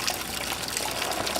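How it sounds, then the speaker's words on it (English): A homebrewed Kentucky Bourbon Barrel Ale aged on toasted American oak pours into a glass, a steady liquid gush and trickle that carries on throughout and is heard alone. "The pour! Here's my Kentucky Bourbon Barrel Ale."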